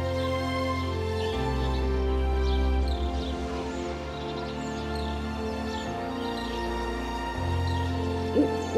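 Male burrowing owl on Badlands prairie in Dakota, soft low hoots repeating under a quiet musical backdrop, faint and fairly distant, no talk.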